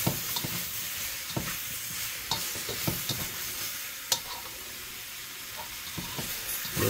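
Bok choy is stir-fried in a pan on an electric stove, sizzling steadily up close while a utensil scrapes and clacks against the pan in irregular strokes, with no talk.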